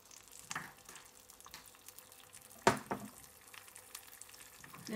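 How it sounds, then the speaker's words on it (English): An egg fries in butter in a pan with a soft, steady sizzle, quiet and close, punctuated by a few light clinks and scrapes. "Fry the egg."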